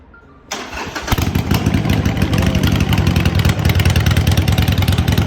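A motorcycle engine kicks into life and keeps running with a loud, rough, steady rumble close by.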